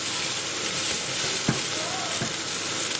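Onions and tomatoes fry in a pan for a prawn and mushroom bhuna, giving a steady, close sizzle throughout with a couple of brief stirring clinks.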